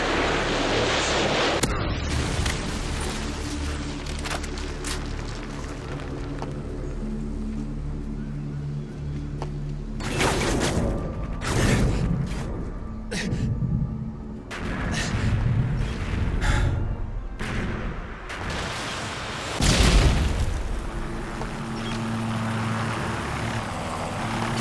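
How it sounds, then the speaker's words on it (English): Predator missile strikes from Modern Warfare 2, played in a free-for-all match on the Overgrown map, land as several loud, booming explosions spaced apart over a rumbling aircraft drone and steady in-game background noise. "Friendly Predator missile inbound."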